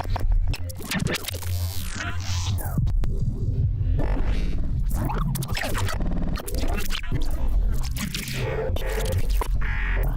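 Dense, evolving wavetable granular synth texture built in Phase Plant, with throbbing low drones, scratchy grainy bursts and sweeping upper layers, loud and continuous throughout with no voice.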